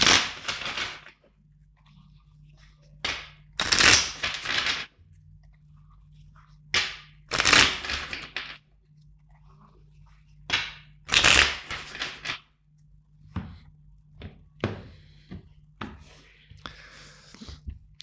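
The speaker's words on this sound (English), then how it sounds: "let's shuffle the deck 4 times for you" A tarot card deck being shuffled in several separate bursts, each a loud crisp riffle of cards with quiet pauses and soft handling between them, close to the ear with a low steady hum underneath.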